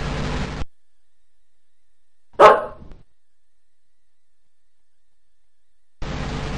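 A dog gives a single sharp bark, loud and close, with a short tail, alone in otherwise silent surroundings.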